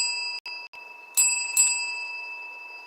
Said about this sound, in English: This will be the harmony bell.